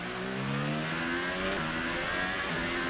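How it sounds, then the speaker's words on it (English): A race car engine in an F1 racing game lapping Suzuka drones steadily at high revs with a rattly edge, its pitch shifting slightly as it runs, loud and with no talk. "My engine's starting to make some rattly noises."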